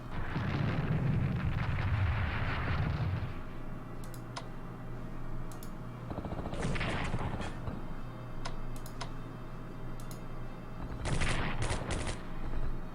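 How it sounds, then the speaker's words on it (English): Railway gun artillery in the Strategic Command strategy game, heard as a loud rumbling opening salvo followed by clustered bursts of gunfire and sharp ticking clicks, with a steady low hum beneath. "We can start with the artillery now. The rail guns."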